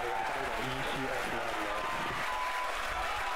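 A crowd cheers and applauds at a Falcon Heavy center core booster landing on a drone ship, a steady roar of clapping and voices throughout, with a person speaking over it.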